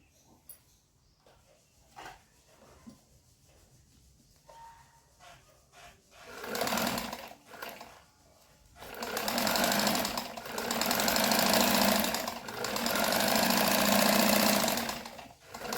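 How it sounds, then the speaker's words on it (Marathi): A sewing machine stitches a betel-leaf shaped cloth piece. After a quiet start with faint clicks, it runs in three close, steady whirring bursts, with short pauses between them. "आता आपण शिवायला सुरुवात करू."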